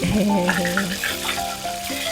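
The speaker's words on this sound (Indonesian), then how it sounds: "saatnya kita goreng di api sedang ya teman-teman" Fish frying in oil over medium heat in a home kitchen, a steady close sizzle and crackle with soft clinks of a utensil, continuous throughout.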